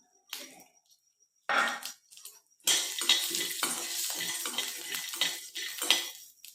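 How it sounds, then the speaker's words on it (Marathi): Peanuts, green chillies and garlic sauté in a little oil in a wok, starting with a few separate scrapes and clinks before settling into a steady close sizzle broken by repeated stirring scrapes. "या कढईमध्येच आपल्याला शेंगदाणे हिरवी मिरची आणि लसूण थोड्याशा तेलावरती आपल्याला हे परतून घ्यायचं आहे"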